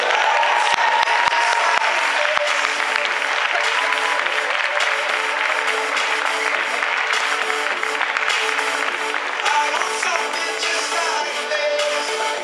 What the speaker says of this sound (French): je vous demande d'accueillir avec un tonnerre d'applaudissements Kim.